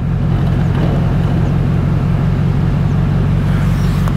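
Steady, loud engine rumble from an off-road vehicle running on lowered tyre pressures as it starts to roll forward, a constant low drone with no speech over it.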